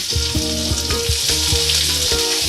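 Chopped garlic fries in a pan for a fish bharta, a loud, continuous close sizzle with a few tonal clinks of a utensil stirring against the pan.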